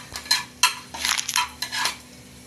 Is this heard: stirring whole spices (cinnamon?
yes